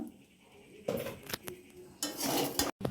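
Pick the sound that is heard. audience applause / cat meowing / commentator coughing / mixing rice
mixing rice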